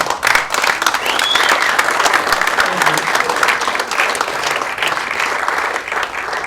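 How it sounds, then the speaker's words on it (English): An audience on its feet gives a standing round of applause, dense and continuous clapping from a crowd with some voices mixed in, steady for several seconds. "what about if we all get up on our feet and give Nick a big round of applause?"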